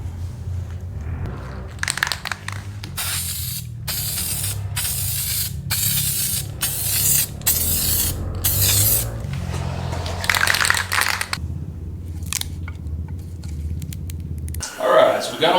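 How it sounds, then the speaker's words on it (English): Spray paint hisses onto car wheels in a series of short, regular bursts separated by brief pauses, loud and close, with someone talking quietly in the background. "Now we're going to start hitting it with the paint."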